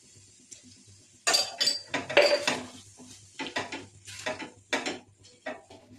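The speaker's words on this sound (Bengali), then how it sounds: "এই পুরটাকে আমাদেরকে নাড়িয়ে ছাড়িয়ে বেশ শুকনো মতন করতে হবে" Pea filling for kachori, salted and sweetened with jaggery powder, stirred in a pan: irregular metallic scrapes and clinks of a spoon against the pan, close and fairly loud, after a quiet start.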